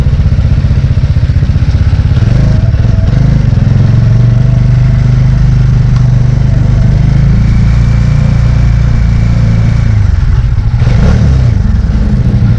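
A Kawasaki Dominar 400 UG2 motorcycle engine revs loud and close, a steady throbbing idle rising into repeated throttle blips, with no voices over it.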